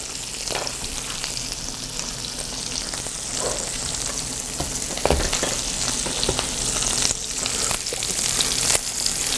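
Chicken breast and garlic frying in a pan over low heat, a loud, continuous close sizzle with occasional utensil scrapes and no talk.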